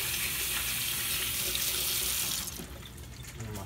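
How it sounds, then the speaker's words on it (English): Kitchen tap water runs steadily at close range for hands being rinsed in a sink, a loud, even hiss that cuts off after a couple of seconds and leaves a quieter trickle. "Rinse the hands."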